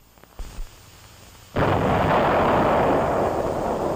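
Artillery salvo firing with a heavy boom that breaks in and then a loud sustained rumble, after a couple of faint thumps.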